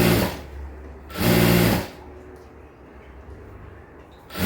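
A sewing machine stitching a straight cut pant seam runs in close, loud bursts, with two strong runs and a quieter steady whir between, picking up again at the end.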